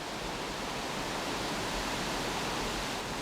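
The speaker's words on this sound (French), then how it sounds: "Là, c'est la cascade, la grande cascade du pont d'Espagne" The grande cascade du Pont d'Espagne in the Pyrenees, a high-flow waterfall, roars as a dense, constant rush of water throughout, with no voices.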